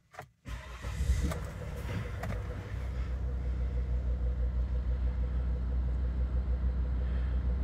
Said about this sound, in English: I'll just start the car so you can see there's no warning lights.